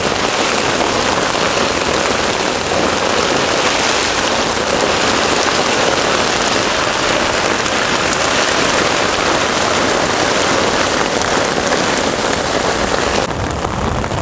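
Torrential evening storm rain drums on a tent, a loud, dense and constant roar of drops that continues without pause, with no talking.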